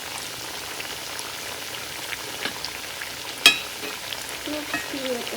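Luchi, puffed Bengali flatbreads, fry in hot oil with a steady, close sizzle and crackle, broken by one sharp click partway through.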